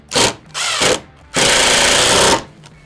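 A power drill driving screws into a wooden garage door during repair, two short whirring bursts followed by a longer steady run, loud and close with no talk.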